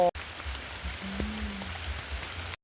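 Steady rain falls on a rural patch where mushrooms grow, a constant soft hiss of drops with a brief low tonal hum in the middle and no voices.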